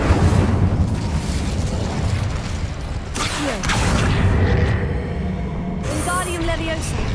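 Incendio fire spell from Hogwarts Legacy bursting in a loud, dense roar of flame and blast with broadband crackle, followed by softer whooshing bursts and brief chiming effects, with speech elsewhere in the scene.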